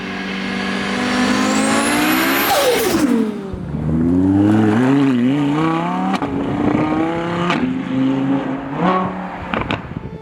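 A 2026 Audi A6 C9 engine screams up through the revs, drops sharply as gears shift, then climbs again in repeated surges, close and with no speech.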